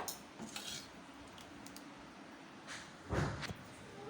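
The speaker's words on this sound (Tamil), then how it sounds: "இப்போ இது எல்லாத்தையும் சேர்த்துட்டு நம்ம வந்து நல்லா மிக்ஸ் பண்ண வேண்டிதான்" A spoon clinks and scrapes against a bowl while mixing rava (semolina) batter with tomato and dried red chillies, in quiet, intermittent strokes, with a louder clatter near the end.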